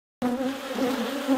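Stirred-up honey bees at an apiary during the splitting of a beehive, a dense, steady, loud buzz of many insects with no voices.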